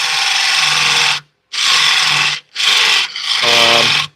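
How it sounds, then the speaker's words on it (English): A wood lathe turns while a hand tool, not carbide, hollows out a piece about three and a quarter inches deep, giving loud, rough scraping bursts in four strokes with brief pauses between. "I'm hollowing this thing out about 3¼ inches deep with no carbide tools and no hollow"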